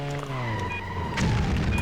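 An explosion in the video game Stuntman gives a low booming rumble with a falling engine-like tone, swelling louder in the second half amid game noise.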